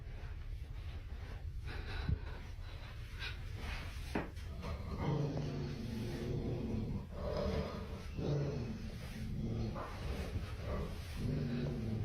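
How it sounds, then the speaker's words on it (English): A dog indoors barking and huffing from another room upstairs, several sharp barks and snorting breaths scattered over a steady background hum, fairly distant. "she's just been staring at that, and then she started barking"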